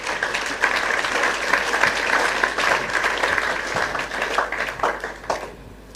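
A large audience of students at a youth event in Kintampo breaks into steady, dense applause that carries on for several seconds and thins slightly toward the end.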